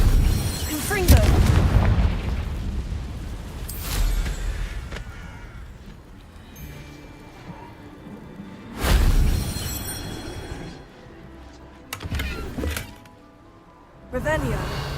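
Confringo spell explosions from a magic video game, several deep booming blasts with crackling bursts scattered over the stretch, layered under game music and voices.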